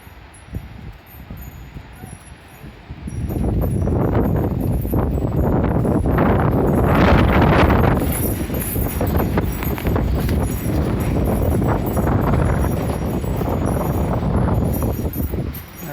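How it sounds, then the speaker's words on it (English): Strong wind storm gusting around 60 mph in Oregon, a loud, steady roar that rises suddenly after a few quieter seconds and holds with surging gusts and rustling throughout. "I think this is that 60-mile-an-hour wind they're talking about"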